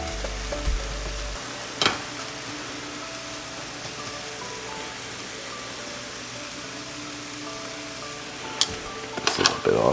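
Pasta sizzles in a hot pan as a steady, soft frying hiss, with a few sharp clatters of utensils at the start and near the end and no clear talk.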